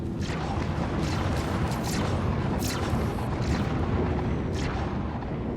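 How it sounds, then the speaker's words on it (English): Distortion cannons on a spaceship in Star Citizen fire in repeated booming bursts over a heavy low rumble, loud and close, with no talk. "So I'm just gonna keep firing my distortion cannons, get rid of his shield"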